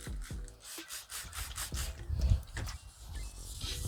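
A plastic car headlight is wet sanded by hand with 800 grit sandpaper in circular strokes, giving soft, uneven rubbing and rasping close by, fairly quiet and with no talk.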